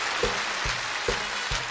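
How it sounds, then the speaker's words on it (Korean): Steady clapping from an audience at a televised singing contest in Yeoncheon, South Korea, a dense wash of applause with a few louder thumps pulsing through. "꼭 한 번만 박수 주시기 바랍니다."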